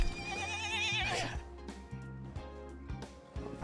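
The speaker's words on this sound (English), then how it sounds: "And my horse's name is Eric, too." A video game horse gives a loud, wavering whinny that trails off, followed by low thuds and scattered clicks of in-game activity.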